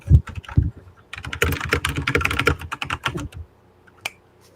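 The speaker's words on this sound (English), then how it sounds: "I've never heard typing that fast" Very fast typing on a computer keyboard: dense, rapid clacking keystrokes in uneven bursts, loud and close, thinning out into a few scattered taps and a final clack.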